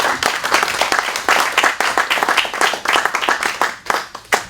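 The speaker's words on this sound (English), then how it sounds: "So I applaud." Applause from a small group at a city commission meeting, a dense run of hand claps carrying on steadily from start to finish at moderate loudness with no talking.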